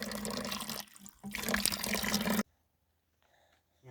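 Water running from a tap with a weak, low-pressure flow, a steady splashing rush that stops abruptly partway through, followed by near silence and faint sounds, then a brief return of flow at the end.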